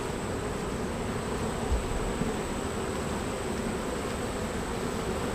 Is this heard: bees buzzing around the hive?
yes